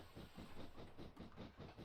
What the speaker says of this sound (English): There is a train on that track that kind of needs through, apparently.